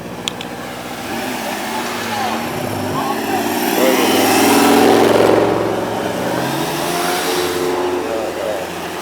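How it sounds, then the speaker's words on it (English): Cars roll into an outdoor summer car meet, engines revving and swelling to a peak midway before easing off. The engine notes rise and fall over a constant background roar. "Got some of the cars coming in right now."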